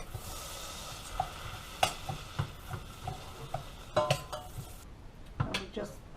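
Noodles browning in butter in a pan: a soft, steady sizzle under repeated clinks and scrapes of a utensil stirring against the pan, close-up and fairly quiet.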